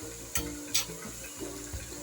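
Ponganalu batter ingredients frying in a pan, a quiet steady low sizzle with a few brief scraping stirs and clinks, no voices.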